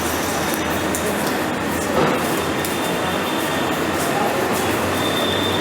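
A Delhi Metro train runs at Durgabai Deshmukh metro station, a loud continuous rumble with rail clatter and a brief screech of wheels near the middle.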